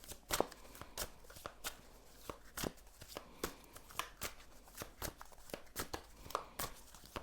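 A deck of tarot cards is shuffled close by in a steady series of quick, crisp flicks and slaps, repeating rhythmically over several seconds with no talking.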